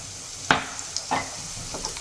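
Fenugreek seeds, nigella and asafoetida hit hot oil, bursting into a few sharp sizzles that settle into a quieter, steady fry, close and alone.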